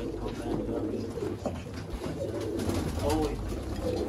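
Sialkoti pigeons kept for sale coo steadily and close by, their low, rolling calls overlapping throughout while someone talks over them.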